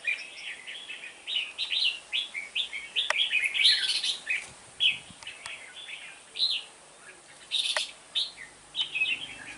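A seven-month-old red-whiskered bulbul chirps in repeated bright phrases throughout, clear and fairly close, with short pauses between bursts and no talking.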